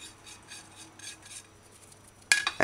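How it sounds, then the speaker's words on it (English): Cabbage stirred into coconut oil and herbs, soft rhythmic scraping and rustling of a spoon through the greens, faint and close, ending in a few sharper clinks against the pot. "And then stir cabbage into the coconut oil and the herbs thoroughly."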